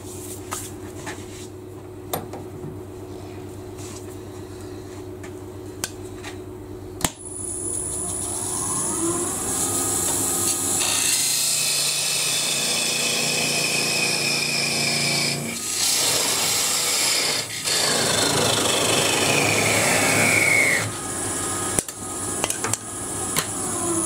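A wood lathe parts off a turned piece of a pepper mill, with a continuous steady grinding and rasping tool-on-wood sound over a humming motor, running loud and unbroken for most of the stretch.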